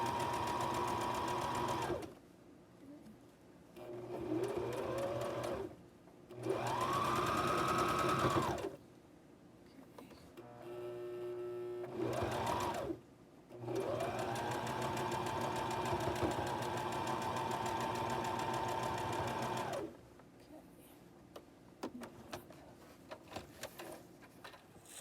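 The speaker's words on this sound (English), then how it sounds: "So I sewed down that side." A sewing machine stitches nested fabric seams in runs of steady mechanical whirring that stop and start, separated by short pauses and a brief quieter stretch, fairly close and alone without talk.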